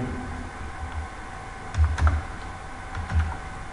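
Close computer keyboard typing of Python code during a programming lesson, with irregular clicks and a few louder key thumps over a low room hum, no talking.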